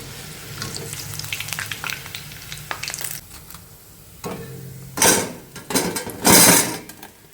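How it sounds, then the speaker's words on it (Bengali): Vegetables deep-frying in hot oil until reddish-brown give a steady close sizzle, broken by louder bursts of bubbling and stirring scrapes toward the end, with no talking. "তো এবার এগুলোকে লাল লাল করে ভেজে নেব।"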